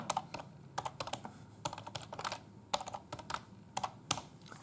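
Quiet, irregular clicking of fingers typing on a computer keyboard, with short clusters of keystrokes and brief pauses in between, heard close and alone.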